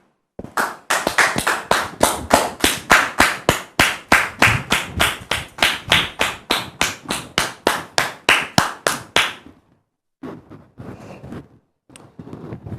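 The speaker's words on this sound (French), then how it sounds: "Il s'agit d'une dame, Dame Marguerite, que nous allons recevoir avec vos applaudissements, s'il vous plaît." A congregation claps in unison to welcome a guest, about thirty sharp, evenly spaced claps in a steady beat, then it stops abruptly and faint, scattered sounds follow.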